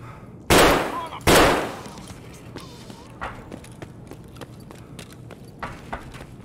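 Full-auto gunfire in the video game Escape From Tarkov, heard as two short, loud bursts close together, followed by faint scattered pops and small noises in the background.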